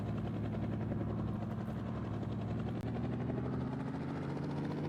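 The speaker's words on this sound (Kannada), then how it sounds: "ಈ ಟೈಮ್ ಹೆಲಿಕಾಪ್ಟರ್ ಹಾರ್ಸಕ್ ಬಂದ್ ನೋಡ್ರಿ ಗೈಸ್" A helicopter in the Indian Bike Driving 3D video game flies with a steady, loud rotor drone and engine hum that keeps going without a break and without any talk.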